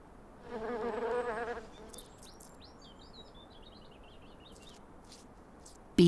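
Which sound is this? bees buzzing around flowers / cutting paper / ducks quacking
bees buzzing around flowers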